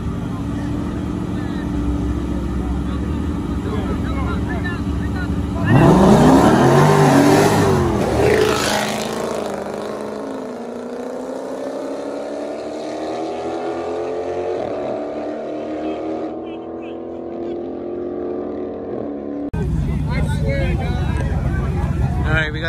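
A white-body 2020 Dodge Hellcat with a 2007 Jeep SRT cam and other mods revs loudly and close, its engine note climbing and falling through a long pull before settling, with wind buffeting the microphone.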